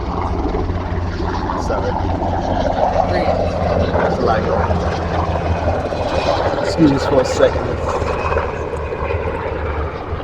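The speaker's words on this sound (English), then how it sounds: "helicopters coming through." Helicopters pass overhead as a steady low rotor drone under someone talking outdoors, staying fairly loud throughout with a slight swell in the middle.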